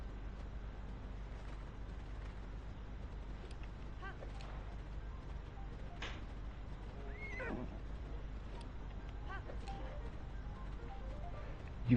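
A horse neighs faintly in a Zelda video game played in Master Mode. Brief whinny calls sit over a constant low background hum, with soft game sounds around them.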